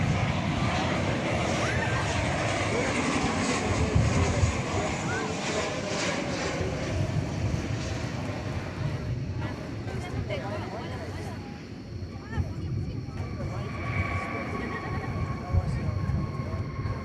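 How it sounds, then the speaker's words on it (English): A United Boeing 737-800 arriving at DFW Airport from Chicago O'Hare gives a sustained broadband engine roar that stays loud and close throughout, with a few faint tonal whines mixed in. "This is United Flight 8140 arriving from Chicago O'Hare Airport."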